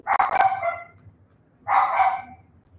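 A dog barks twice, a quick burst followed by a second bark about a second later, moderately loud in a quiet room.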